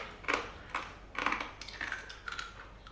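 Overly crispy bacon in a home salad is bitten and chewed, several close, sharp crunches at an uneven pace over a few seconds, with no talk.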